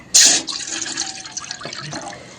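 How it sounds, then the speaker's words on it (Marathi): Water poured from a small copper pot into a heated cooking pot in a village kitchen, a sudden loud splash followed by a brief trickle, close by. "एक तांबे पाणी घ्यायचंय पाणी घालून घ्यायचंय"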